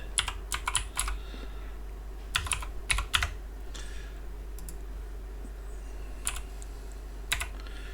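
Password being typed on a computer keyboard at a content management system login: clusters of quick, close key clicks in short bursts separated by pauses, over a steady low hum.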